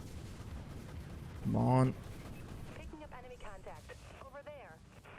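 Repeater guns on a warship fire in the video game Dreadnought: one loud, dense burst of about half a second stands out against a steady game-battle backdrop, with a voice talking quietly before and after.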